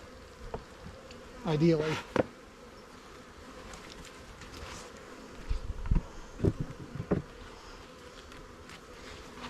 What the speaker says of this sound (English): we should see bees kicking out pheromone